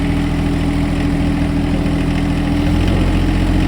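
A tractor engine held at high revs, somewhere above 3,000 RPM, gives a loud, steady, close-up drone with a deep rumble underneath, constant throughout with no breaks.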